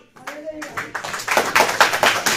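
A church congregation claps along during a sermon, a brief voice at the start giving way to steady, rhythmic hand claps that grow louder and denser toward the end.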